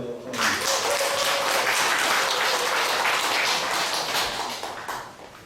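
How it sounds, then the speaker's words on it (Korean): A church congregation at a Sunday service breaks into loud, sustained applause for about five seconds, then it fades out. "다시 한번 박수."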